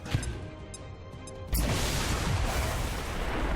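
A truck blows up in the video game XCOM 2, a sudden loud blast partway through that gives way to a sustained roaring, crackling rumble.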